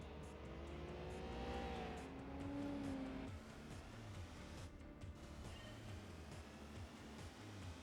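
An 8.3 litre V10 race car engine roars in Gran Turismo 4, climbing in pitch under hard acceleration and then dropping back through gear changes. The loud, steady engine drone carries throughout with faint tyre noise.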